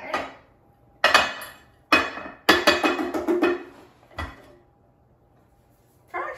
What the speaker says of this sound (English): So I'm going to take it out of the loaf pan onto a platter.